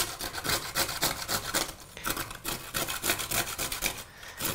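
Raw parsnip is rubbed down a grater in quick, rhythmic rasping strokes, close and fairly quiet, repeating steadily for a few seconds.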